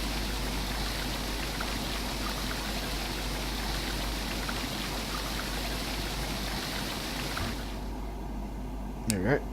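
Water gushes steadily from a water tower into a steam locomotive tender in Train Simulator 2016, a constant rushing trickle. It cuts off near the end, and a short whistle-like tone follows.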